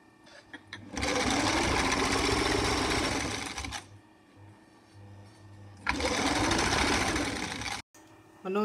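A sewing machine stitches a jacket seam in two loud, steady runs of rapid mechanical whirring, each lasting about three seconds, separated by quieter handling noises and a pause.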